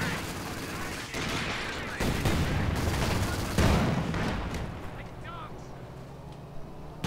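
Machine gun fire and scattered gunshots in a winter Rzhev battle in Company of Heroes 2, a dense noisy barrage running throughout with players talking over it.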